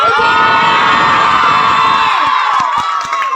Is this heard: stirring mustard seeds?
no